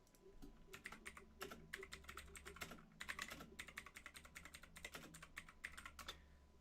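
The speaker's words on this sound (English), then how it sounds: "Peyton is typing from the sounds of it" Rapid, irregular keyboard typing, clicking in quick bursts with short pauses, fairly close and steady over a low background hum.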